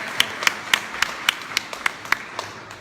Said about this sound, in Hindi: ताली तो बजाओ कम से कम भाई